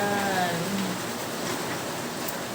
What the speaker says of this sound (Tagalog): Ngayon, umuulan na siya. Sana hindi ganun kalakas tong bagyo na to.